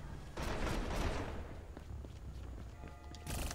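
Video game gunfire from a turret and a handheld gun comes as a loud, crackling volley, then trails into scattered, lighter shots and thuds before another burst near the end.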